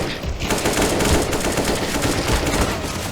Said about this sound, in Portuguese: Dá tiro pro alto aí, só pra ele se assustar.